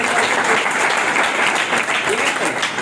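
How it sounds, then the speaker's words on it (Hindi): Loud, sustained applause from a crowd at a coaching institute's celebration in Bundi, greeting the institute's director, steady clapping throughout with no pauses. "तो एक बार जोरदार तालियां सबसे पहले।"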